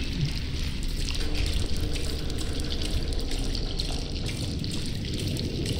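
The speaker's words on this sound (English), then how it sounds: "The ink drips." Ink dripping and trickling in the video game Bendy and the Dark Revival, a continuous wet pattering and dribbling at moderate level with no voices over it.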